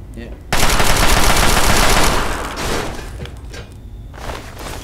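Player gunfire in Fallout 3, a loud, sustained automatic burst for about two seconds, followed by scattered weaker shots and echoes.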